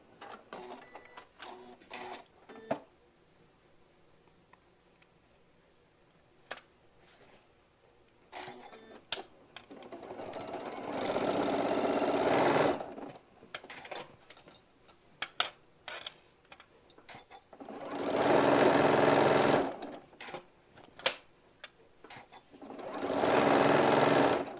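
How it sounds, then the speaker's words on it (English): A sewing machine stitches and back tacks the pocket of a hobo bag in three loud, rapid whirring bursts, separated by quiet stretches with scattered clicks and handling noises. "I'll back tack at the top of the pocket because there's always going to be some pull onto that area there."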